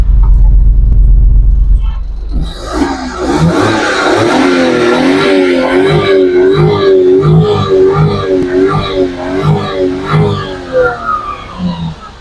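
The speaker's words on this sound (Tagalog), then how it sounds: "check natin yung tambutso" Suzuki DA63 kei truck with a 660cc K6A engine idling steadily at the exhaust, a loud, close, continuous mid-frequency rumble with a slight revving swell, with people talking nearby.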